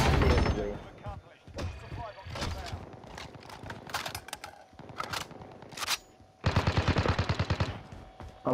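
Rapid automatic gunfire from Call of Duty: Modern Warfare rattles in several loud bursts, the longest near the end, while players talk over the shooting.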